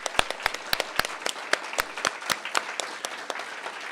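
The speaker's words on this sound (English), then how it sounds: "Big round of applause." Applause from a live comedy panel audience, scattered individual claps standing out sharply over a steady, moderate wash of clapping that holds for about four seconds with no talking.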